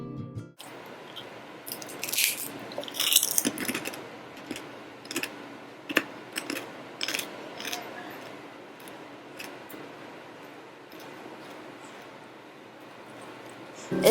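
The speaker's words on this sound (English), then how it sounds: "It is really crispy, as you can hear from the noise." Crispy fish skin crackers being crunched while eating, irregular close bites and crackly chewing bursts that thin out into quieter munching, with no talking.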